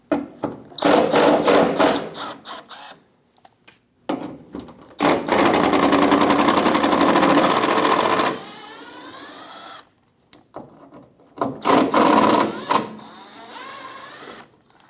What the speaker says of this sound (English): Using a T25 bit, remove the 3 bolts.